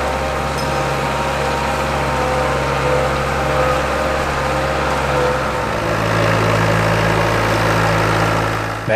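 An International Harvester tractor engine runs steadily under load during a drawbar pull test, a loud continuous low throbbing drone with a shift in pitch around midway as the engine note changes.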